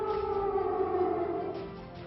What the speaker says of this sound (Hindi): यूक्रेन का शायद ही कोई इलाका हो जहां एयर रेड का सायरन न बज रहा हो